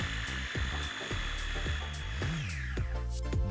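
A food processor whirs steadily as it mixes garlic with Greek extra virgin olive oil for pesto, its motor pitch wavering and dropping near the end.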